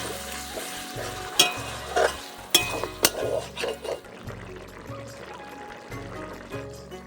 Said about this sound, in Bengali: এরপর দিয়ে দিচ্ছি পরিমাণ অনুযায়ী জল